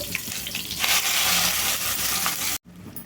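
Masala paste for stuffed brinjal curry hits hot oil over a seasoning tempering, giving a steady, loud, broadband sizzle that runs continuously, briefly cuts out near the end, then resumes more quietly.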